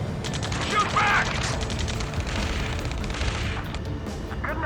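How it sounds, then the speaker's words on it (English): Gunfire and explosions in the combat video game Ace Combat 7: Skies Unknown, dense rattling bursts and booms layered with mechanical clatter and radio chatter throughout. "Taking fire! We're pinned down!"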